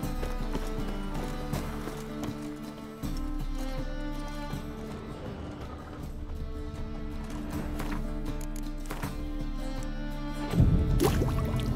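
Roach, a horse in The Witcher 3 video game, gallops with steady clip-clop hoofbeats over a constant music and ambient bed, with a brief whinny-like burst and louder rush near the end; no talking.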